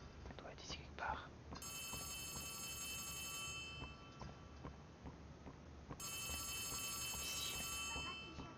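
A telephone in Poppy Playtime Chapter 3 rings in two long electronic bursts amid a dense, noisy game soundscape with faint whispers and clopping sounds.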